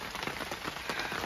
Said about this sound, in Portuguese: Esperar essa chuva passar.